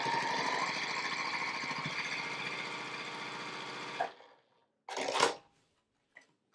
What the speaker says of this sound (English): I'm just gonna line it up here and then sew a 1/4 inch seam.